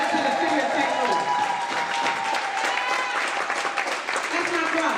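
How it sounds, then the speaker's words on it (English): A fundraiser audience in St. Louis breaks into sustained loud applause, dense clapping filling the room with cheering voices mixed in. "join me in giving Muhammad a round of applause for all of his hard work"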